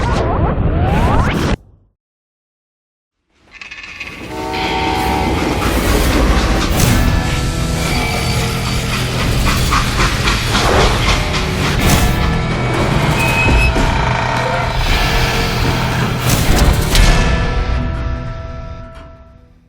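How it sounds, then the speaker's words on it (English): Freight train in the Call of Juarez Gunslinger video game, a loud continuous rumble of rolling wagons with metallic clanks and screeching, following a brief burst and a moment of silence. "They hopped a freight train having heard there was a big payroll in the express safe."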